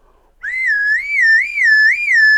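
A homemade slide whistle plays alone, loud and close: one sustained clear tone that slides up and down in smooth waves, rising and falling pitch several times.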